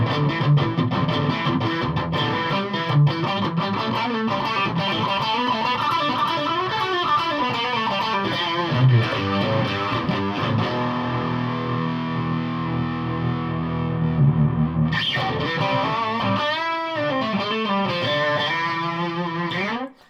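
Heavily distorted electric guitar plays chords and riffs through an Ibanez Toneblaster 100H amp, loud and continuous, with a brighter, busier passage near the end.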